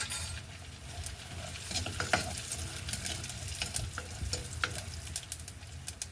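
Cut dried red chillies frying and being stirred in a pan of oil, a steady close sizzle with a scatter of sharp spoon clicks and scrapes against the pan.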